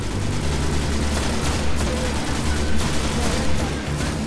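Gunfire and impacts during a firefight with the Vex in the PS4 game Destiny, a dense continuous barrage of shots and booms, loud and unbroken, with heavy low rumble underneath.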